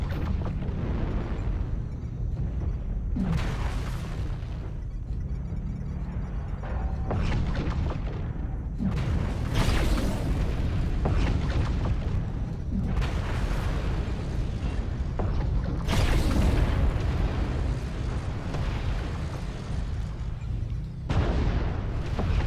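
Airstrike explosions in a video game, a series of heavy booms and rumbling blasts every few seconds over a dense, continuous roar of battle noise, loud and close with no speech.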